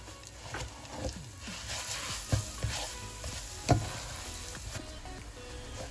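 Postpartum spice mixture (sutkeri masala) with raisins, stirred and fried in a pan: a continuous soft sizzle broken by periodic spoon scrapes and knocks, close up and with no talking.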